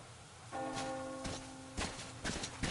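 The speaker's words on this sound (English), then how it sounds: "Do you hear that bell?" Bell ringing in the video game Metro Exodus: a sustained ringing tone that holds for over a second and then fades, with footsteps and other game sounds around it.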